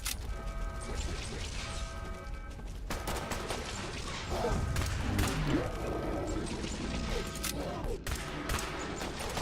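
Gunfire in Fallout 76, rapid bursts of shots and mechanical clatter running continuously with crashes mixed in, loud and close throughout.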